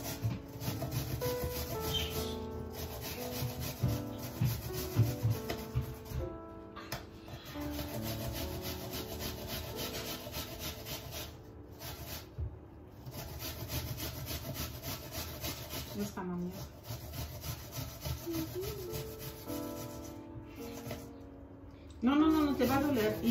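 Food is grated on a hand grater for a phyllo pastry custard cake, with continuous rhythmic rasping strokes close up over a long stretch and brief pauses between runs.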